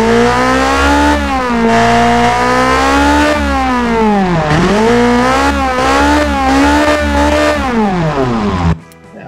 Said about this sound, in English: So as you can see, the engine is very loud